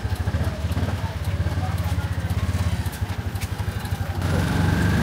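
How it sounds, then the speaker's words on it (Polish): A tuk-tuk's small engine chugs with a fast, steady putter while carrying riders along a street, close and continuous throughout, its pitch rising slightly near the end. "Wzięliśmy tuk-tuka z ulicy"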